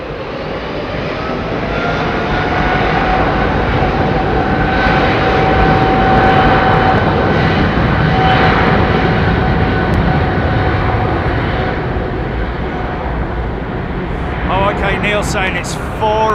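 An aircraft takes off from runway 27 right at London Heathrow, its engine roar loud and broad, swelling and holding steady across the whole stretch before easing near the end as faint voices come through.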